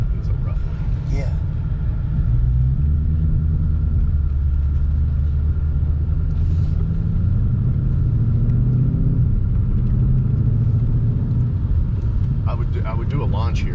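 A 2020 Ford Mustang Shelby GT500 rumbles steadily from inside the car as it drives on a rough road, a constant low engine drone with a person talking over it.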